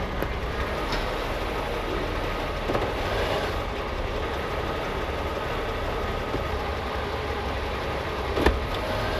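A 1988 Buick with a 440-T4 automatic transmission runs steadily as it is shifted through its gears, giving a continuous engine drone without distinct surges.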